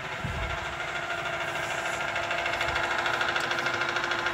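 An electric boat motor runs forward at 12 volts, rigged to the boat's original throttle, giving a steady, even hum with a faint mechanical whine throughout and no talking.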